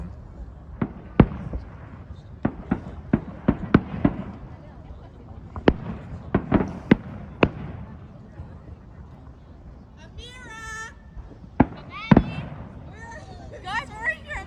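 Fireworks explode at Ashbridges Bay in Toronto on Victoria Day, with a series of sharp, booming bangs at irregular intervals, some distant and some louder, while people nearby talk and exclaim over them.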